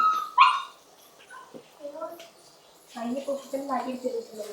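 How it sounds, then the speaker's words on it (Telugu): Faint, high yips and whimpering barks from puppies at a distance, scattered over a few seconds, with a quiet voice nearby. "మనం తలుపు తీయట్లేదని వస్తున్నాయి కుక్క పిల్లలు"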